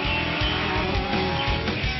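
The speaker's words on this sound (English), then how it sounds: "Give it a little bit of gas and the car will start rolling." A Lamborghini Gallardo on a Singapore street, its engine giving a steady, loud, close rumble throughout as it moves off, with no voices over it.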